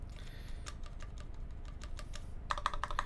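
Mechanical keyboard on a TR60 build typed in a quick burst of clicky keystrokes, ending with a louder cluster of sharp, rattly taps near the end, close and fairly quiet.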